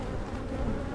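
Honeybees buzzing at a hive during a colony inspection, a dense continuous hum of many wings, close and even, with no talk over it.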